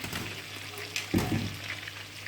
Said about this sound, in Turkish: Yavaş yavaş suyunu çekti. Kızarmaya başladı.